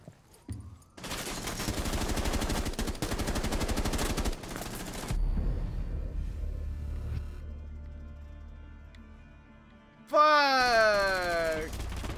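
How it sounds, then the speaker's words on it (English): Gunfire in Rainbow Six Siege, sustained loud automatic bursts with rapid rhythmic reports, then a quieter stretch of low rumble before another sharp blast near the end. "I was shooting right above your head."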